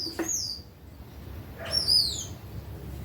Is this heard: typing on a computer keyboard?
no